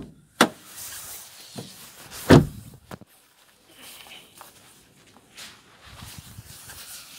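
Front bonnet of a Hyundai Grand i10 being opened, with a couple of sharp clunks and latch knocks, then quieter rustling and shuffling nearby.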